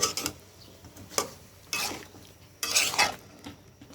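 A spoon scrapes and clinks against a cooking pot as bottle gourd curry with prawns is stirred, with several separate scraping strokes and soft sizzling underneath.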